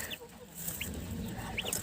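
Small turkey poults and ducklings peep in short, high chirps scattered over a low, steady background rumble, close by.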